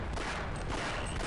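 Gunfire rattles in Half-Life, a dense burst of shots packed into a short, loud stretch with no pauses, close and harsh.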